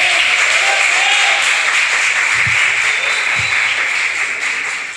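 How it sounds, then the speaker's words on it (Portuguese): A church congregation at a communion service applauds steadily, a dense wash of clapping hands that holds strong for about five seconds before starting to taper off. "Vamos aplaudir"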